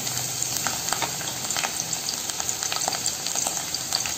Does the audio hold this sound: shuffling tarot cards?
no